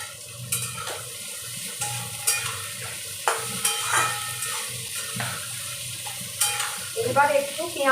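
Chopped onion, garlic, ginger and green chili fry in a pan for niramish ghugni, with a close, continuous sizzle broken by regular stirring scrapes and clatters.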